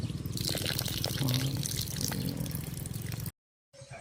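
Water poured out as an offering to ancestors makes a steady, close splashing stream that runs without a break and then stops abruptly.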